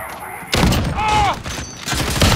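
Gunfire in Call of Duty Modern Warfare during a sniper match: a dense, sustained burst of shots fills the whole stretch, loud and close, with a brief whistling tone partway through.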